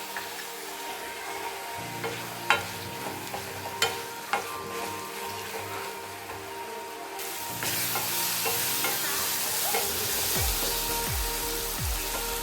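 Curry leaves and tomato fry in oil in a pan for mushroom masala, sizzling steadily. A few sharp clinks of stirring come early, and the sizzle grows louder toward the end.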